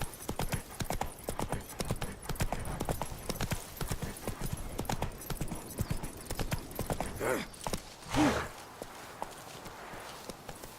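Roach, a horse in The Witcher 3, gallops in a steady rapid clip-clop of hooves throughout, loud and close, with a brief snort or whinny near the end.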